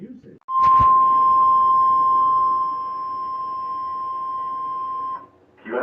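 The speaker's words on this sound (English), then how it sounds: "You have just heard a test of the National Weather Service Radio Warning Alarm feature." A National Weather Service radio warning alarm test tone sounds as one loud, steady, single-pitch tone for about five seconds, with a short fragment of broadcast sound before it and after it.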